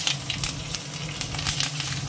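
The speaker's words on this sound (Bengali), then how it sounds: "তেলের মধ্যে দিয়ে দেবো একটুখানি জিরে, আর এই কাঁচা লঙ্কা দুটো দিয়ে দিই।" Cumin seeds and green chillies sizzle in hot oil with a steady hiss and scattered pops and crackles, close up.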